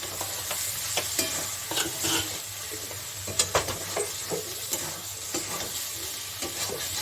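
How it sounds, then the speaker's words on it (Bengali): Chicken bhuna masala sizzles in a pan while a spoon scrapes and stirs it repeatedly, giving irregular knocks and scrapes over a steady frying hiss, close by. "কেন এখন তো ভাজা ভাজা হয়ে আসছে,"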